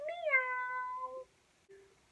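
A person imitates a cat in a children's song, giving one drawn-out, clear meow followed by a short softer tail, close and alone.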